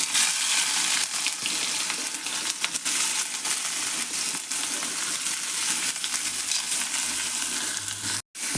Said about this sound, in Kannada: ಈಗ ಉಳ್ಳಾಗಡ್ಡಿ ಎಣ್ಣೆ ಒಳಗೆ ಫ್ರೈ ಮಾಡ್ಕೊಳ್ಳೋಣ್ರಿ ಇವನ್ನ